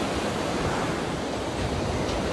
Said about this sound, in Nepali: कति राम्रो हावा आइरहेछ अहिले, शीतल हावा आइरहेछ